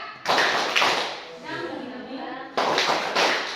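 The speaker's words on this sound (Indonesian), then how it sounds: "Tepuk semangat" A class performs the tepuk semangat clapping chant, with bursts of quick rhythmic hand claps and taps alternating with a softer stretch where voices chant together, then the clapping returns.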